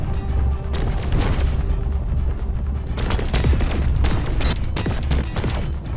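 Gun firing and blocks being destroyed in Space Engineers 2, a space sandbox video game: a rapid, loud fusillade of shots with crunching impacts and booms, pausing briefly near the middle before another dense burst.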